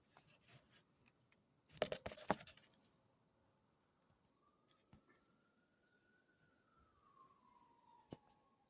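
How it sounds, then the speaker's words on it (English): A distant siren slowly rises and falls in a faint, drawn-out wail outdoors in snowy weather, following a few seconds of close scratching and rustling. "And there are sirens."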